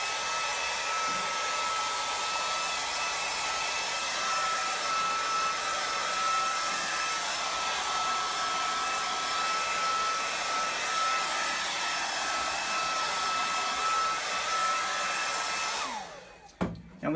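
A handheld dryer blows a steady, loud whooshing roar over freshly dyed two-tone leather on a seat, running unbroken for about sixteen seconds before cutting off with a few handling bumps.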